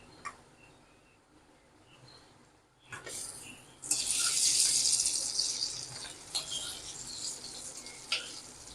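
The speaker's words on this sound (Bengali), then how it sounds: "এক এক করে সবগুলো ধোকা ভেজে নেব।" Dhoka lentil cakes frying in hot oil, a quiet start that turns into a loud, hissing sizzle partway through, with a few clinks and bubbling pops as the frying goes on.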